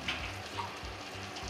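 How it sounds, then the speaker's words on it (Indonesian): Butter melting in a pan on the stove for pancake batter, giving a steady close sizzle and crackle with faint stirring, no voices. "Saya mau timbang mentega dulu dan saya mau cairkan dia di panci ya."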